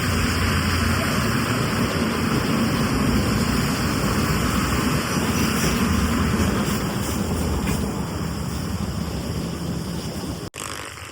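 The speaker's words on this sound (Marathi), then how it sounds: "हा टेम्पो वाला ना जब्बर पाणी उडवतोय." A tempo van throws up spray on a wet road during a night ride, heard as a loud, steady broadband wash of water and road noise that continues unbroken, ending with a brief sharp dropout.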